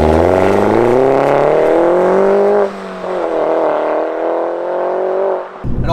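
Mini John Cooper Works GP with a Ragazzon exhaust and 1.6-litre four-cylinder engine, loud and close, revving up in rising pitch, dropping briefly, then holding a steady strained drone before cutting off.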